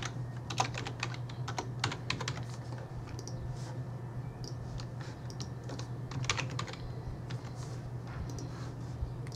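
Steady typing on a computer keyboard while filling in an online form, with irregular bursts of key clicks over a constant low electrical hum, close and moderately quiet throughout.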